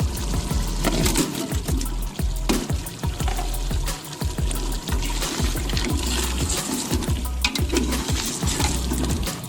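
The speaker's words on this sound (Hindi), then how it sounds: "अब इसमें हम आलू शामिल करेंगे आधा किलो जो मैंने बताए हैं।" Half a kilo of potatoes frying with meat in a pan for village-style aloo gosht, a loud, constant sizzle with stirring scrapes and wet crackle throughout, no talk.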